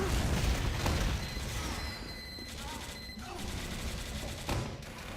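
Gunfire in the Team Fortress 2 video game, a burst of rapid shots and booms up front that thins into scattered distant pops and mechanical clanks, with no talk.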